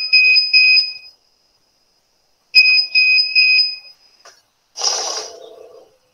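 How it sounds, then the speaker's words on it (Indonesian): A money counting machine flags a counterfeit banknote with two bursts of steady, loud electronic beeping, a pause between them, then a short rushing whir as the machine runs again. "apabila ada uang yang terdeteksi palsu, mesin ini akan berhenti dan akan memberi tanda berupa bunyi tak atau alarm."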